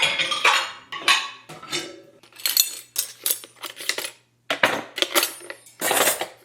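Dishes and cutlery clink and clatter in a series of short, close bursts while loading a dishwasher, with brief pauses between as items are set down one after another.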